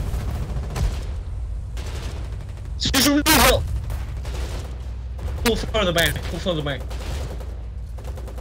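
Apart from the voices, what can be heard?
gunfire in the video game Foxhole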